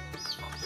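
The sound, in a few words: hen clucking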